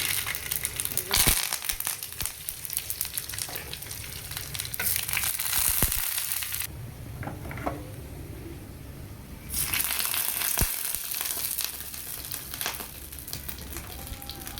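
Mustard seeds sizzling in hot oil while dahi vada are made: a loud, hissing fry that swells and fades in stretches, with crackling pops, crinkling and scraping handling noises close by.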